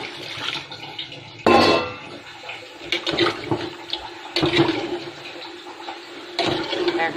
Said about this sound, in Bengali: একটু পানি দিব